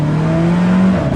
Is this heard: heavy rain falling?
no